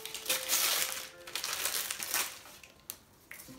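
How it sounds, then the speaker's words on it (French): Crinkling and crushing of wrapping paper as a Christmas geek-swap gift holding a Funko Pop figure is unwrapped, a close, continuous rustle with sharper crackles and no talking over it. "déballer pour pas faire trop de bruit pendant que je parle"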